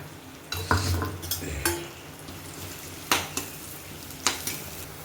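Onions and curry leaves sizzle and fry in a pan while a spoon stirs and scrapes against the metal in irregular bursts.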